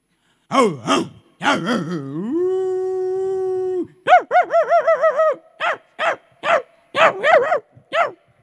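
A performer at a Nepali festival stage show mimics a dog with his voice, giving a long drawn howl followed by a quick run of sharp, loud barks and yelps, close and clear with no other talk.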